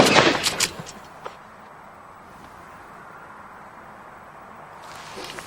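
An electrically fired bomb disposal charge gives a sharp blast at the start, followed by a few quick cracks and echoes that fade into quiet outdoor background noise.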